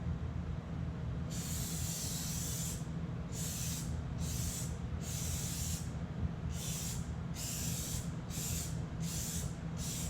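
Spray paint hisses onto a car grill in a series of short bursts, several spaced passes that grow quicker toward the end, over a constant low background rumble.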